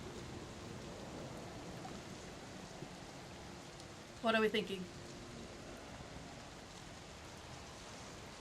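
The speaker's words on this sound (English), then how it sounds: "It is raining." Steady rain ambience, a soft even hiss of falling rain throughout, faint in the background, with a short spoken phrase breaking in midway.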